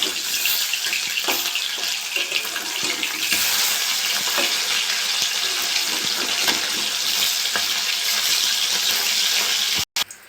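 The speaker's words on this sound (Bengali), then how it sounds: "মাছটা একটা ভাজা হয়ে গেছে। আমি এবার উল্টে দেবো। উল্টে পাল্টে ভালো করে ভেজে দেবো।" Folui fish turned and fried in mustard oil, giving a dense, continuous close-up sizzle with faint scraping and crackling, then a brief cut just before the end; no voices.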